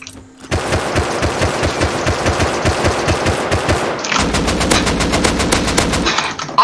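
Rapid bursts of automatic gunfire in a video game, loud and close, with a sustained rattling stream that shifts to a denser, brighter volley partway through.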